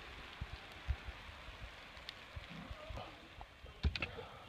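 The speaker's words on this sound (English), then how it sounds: "there's hail falling" Hail falls on a mountain trek in Nepal, faint scattered ticks and taps on surfaces over a soft steady patter, with a few sharper knocks standing out.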